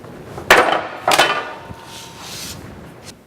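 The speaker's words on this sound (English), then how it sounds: "I'm then going to use the squaring shear and shear off that 1/16 of an inch of material." A squaring shear chops a thin strip off the edge of sheet metal for a toolbox end, giving two sharp, loud clunks about half a second apart, followed by quieter shop noise.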